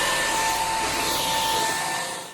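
A cordless stick vacuum cleaner runs with a steady, loud motor whine and airy suction roar, holding constant for a couple of seconds before starting to fade at the end.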